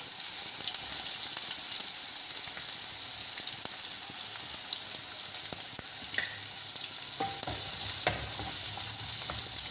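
Onion, green chili, ginger and garlic frying in a pan, a steady close sizzle with faint stirring clicks, continuous and fairly loud with no talking.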